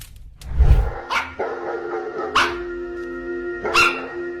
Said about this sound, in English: a woman's dog began barking furiously